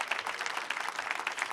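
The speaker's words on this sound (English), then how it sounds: "Can we give her a round of applause?" A short burst of audience applause at a student startup competition, many hands clapping in a brisk, even patter from a crowd close by.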